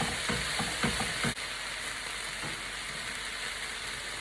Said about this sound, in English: we're gonna throw in our day-old sticky rice now. And you just wanna break that up so the rice and the kimchi gets